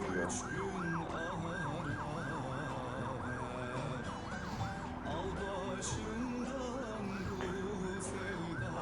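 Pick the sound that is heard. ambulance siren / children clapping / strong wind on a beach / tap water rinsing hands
ambulance siren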